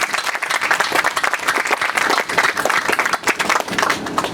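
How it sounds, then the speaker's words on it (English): An audience at a school groundbreaking for a junior school claps loudly and steadily, many hands blending into a dense, lively roar with scattered sharper claps that carry on through the whole clip. "How about a round of applause for that?"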